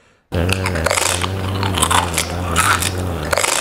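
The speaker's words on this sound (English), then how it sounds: "I can't focus with that girl munching on the hot Cheetos" Someone loudly munches hot Cheetos up close, crunching and chewing in rapid, continuous bites after a brief silent start.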